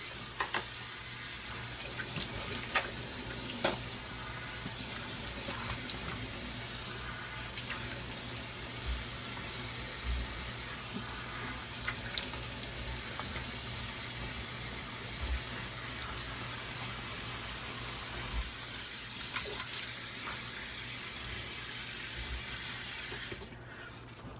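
Running water from a tap rinses off after shaving, a steady close splashing flow that holds at an even level throughout with small clinks and drips, stopping only at the very end.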